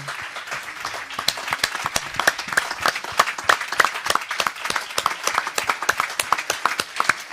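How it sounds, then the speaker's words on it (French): An audience applauds at a 2021 urology congress in France, a fairly close crowd clapping steadily throughout with many distinct hand claps and no talking. "je voudrais qu'on les applaudisse chaleureusement"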